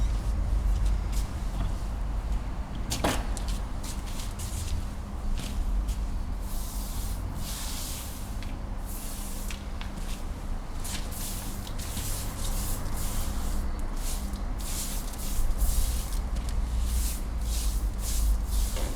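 A paint roller spreads Keim Concretal Lasur across a concrete surface, giving a steady close wet hiss and soft rolling swish with faint sticky clicks, continuous and fairly loud with no talk.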